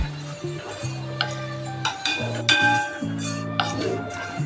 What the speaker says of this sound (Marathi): व्यवस्थित हलवून घ्यायचे. असा कुरकुरीत आवाज आला पाहिजे.